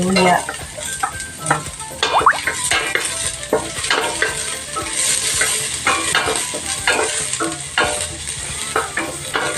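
Onion and ginger sauté in a pan for chicken tinola, the sizzle broken by frequent scraping stirs and light clinks of a utensil against the pan, close by and fairly loud.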